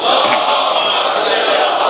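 A mourning congregation at a Muharram majlis chants salawat in unison in response to a call, a loud, dense burst of many voices lasting just under two seconds.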